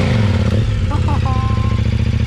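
A KTM 1090 S motorcycle stuck off-road, its engine running close and loud with a rough pulsing throb as the rear wheel spins, while people shout and talk over it.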